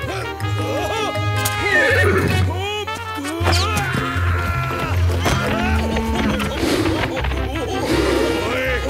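Horses in an animated cartoon whinny and neigh loudly over and over, with hooves and commotion beneath and a voice shouting in French among them.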